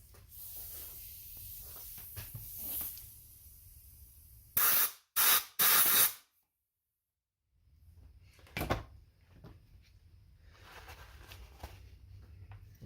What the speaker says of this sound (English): I'm going to take a little bit of compressed air in a second. We'll blow this out in here.